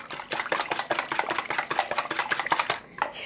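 Rapid, rhythmic clicking and tapping of a wire whisk beating zucchini breakfast cake batter in a bowl, brisk strokes repeating close by without talk.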